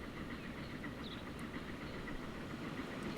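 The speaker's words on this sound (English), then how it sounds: "What do we got here? Another brick train." Freight train hauling bricks in the Transport Fever 2 railway game, a steady low rumble of rolling wagons and engine with faint rhythmic clatter, continuous and fairly loud with no talk.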